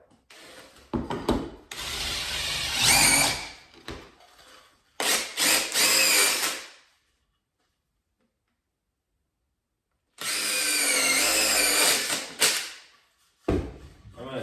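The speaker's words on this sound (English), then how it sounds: "I have a spade bit, so I'm going to throw on here. I'm going to drill these out." Bursts of drilling into wood with a spade bit come in several separate runs, grinding and rough, with a long quiet gap between them; no voices.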